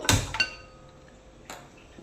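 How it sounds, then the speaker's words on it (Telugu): A heavy metal pressure cooker lands on a stove with a loud ringing clang, a second knock follows, and a softer clink comes a moment later. "సో ఇప్పుడు స్టవ్ మీద కుక్కర్ పెట్టుకొని"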